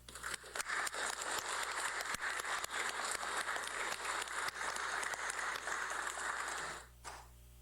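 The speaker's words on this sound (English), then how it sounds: "Give them a round of applause." An audience at an Eagle Scout Court of Honor claps steadily for several seconds, with a few sharper claps standing out, before the applause cuts off abruptly near the end.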